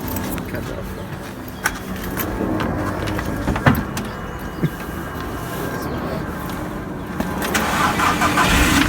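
A Volkswagen Golf MK5 engine is started, its turnover and idle blending into a steady close engine rumble with a few clicks and bumps from inside the car, and people talking.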